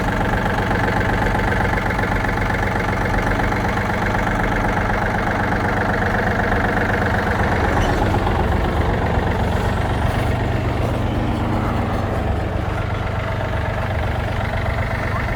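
A Yanmar F200 mini tractor fitted with a loader idles nearby, its engine holding a steady, slightly knocking rumble throughout without revving.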